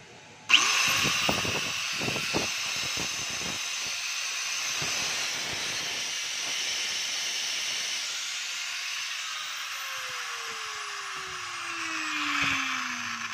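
A DeWalt DW54002 4-inch angle grinder, fitted with new carbon brushes, starts abruptly and runs steadily as a loud, close, high whine for over twelve seconds, with one tone sliding lower toward the end, and no speech.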